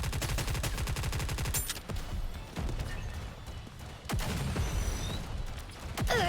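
Loud rapid automatic gunfire from the Nikke: Goddess of Victory video game, a fast rattling burst at first, then scattered single shots and sharp impacts with brief pauses between.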